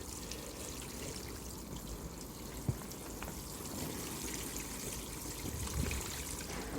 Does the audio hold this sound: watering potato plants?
yes